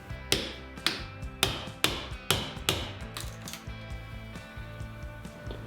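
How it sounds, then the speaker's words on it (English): A chisel taps a groove into a wooden stud: about nine sharp, evenly spaced knocks over the first four seconds, close and fairly loud, then fainter ticking and handling sounds. "then I'll go in with the chisel and make the groove"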